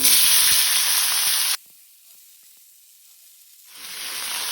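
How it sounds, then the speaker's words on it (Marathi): Vegetables for a Goan mixed veg bhaji of cauliflower, carrot and beans, with mustard seeds, asafoetida and green chilli, hit hot oil in a loud close sizzle that cuts out abruptly mid-clip and returns near the end. "आता हांव तातूंत भाजी घालता"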